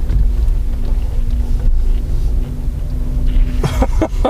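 Renault Zoe electric car pulling away in drive, almost silent apart from low road rumble and faint wind, with a few soft clicks and knocks near the end and no engine note.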